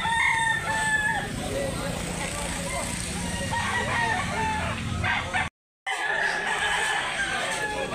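Roosters and hens at a gamecock market in Consolacion, North Cebu, crow and cluck repeatedly nearby amid constant farmyard noise, with a brief dropout of silence partway through and someone talking.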